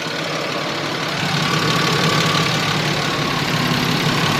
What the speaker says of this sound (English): But another issue that I'm having is ticking that's coming from the bottom of the engine.